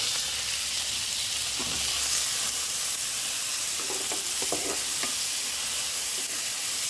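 Boiled green peas with cumin fry in a pan for a stuffed baati filling, giving a steady broad sizzle throughout, with a few soft stirring scrapes near the middle and end.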